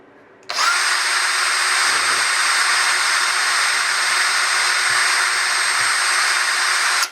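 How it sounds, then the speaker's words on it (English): Power drill boring into a small resin keyring, a steady close high-pitched whine that starts abruptly and holds for several seconds before cutting off. "Okay, I've got to use my drill."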